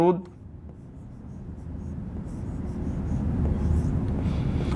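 Pen or marker scratches across a board as an answer is written out in a physics lesson, a soft, close rubbing that swells and breaks into short strokes, with a brief bit of voice at the start.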